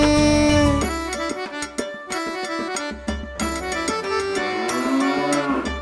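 Cow mooing in a children's rhyme, a few drawn-out, tonal lows set against bright music with percussive hits, moderately loud.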